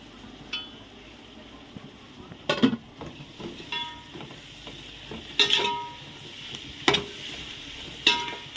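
Mint and coriander frying in oil for mutton biryani, a low continuous sizzle close by, broken by a few sharp clinks and scrapes of a spoon against the pot.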